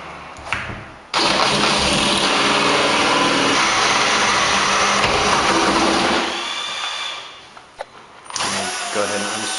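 A power drill boring a hole through a door with a smaller bit while converting a mortise lock to a cylinder lock, running loud and steady for about five seconds, then easing off near the end.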